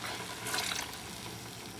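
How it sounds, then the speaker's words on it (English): Milk poured into a pot while making pepper mac and cheese: a short, soft, steady splashing rush that swells briefly and then settles. "First thing we do is pour in the milk."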